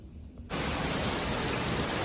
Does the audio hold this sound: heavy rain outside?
yes